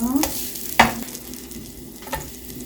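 Korean jeon pancakes frying in plenty of oil in a pan give a steady soft sizzle, with a few sharper clatters of a spatula pressing and turning them.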